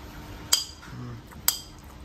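Two sharp metallic clinks about a second apart as a spoon strikes a pan, with a soft scraping stir between them.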